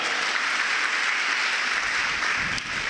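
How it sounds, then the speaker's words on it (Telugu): A church congregation claps loudly during a worship service: dense, continuous applause that stays near and full for the whole stretch with no voices above it. "గట్టిగా చప్పట్లు కొట్టండి"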